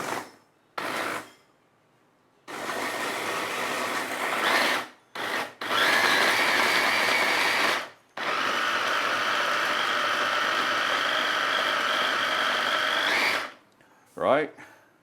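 A cheap electric blender running during home preparation of Malaysian grilled fish, loud steady whirring motor in several long bursts separated by brief pauses, with a short voice at the end.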